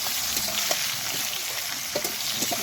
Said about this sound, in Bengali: লবণ দিয়ে এবারে নেড়ে চেড়ে নেব।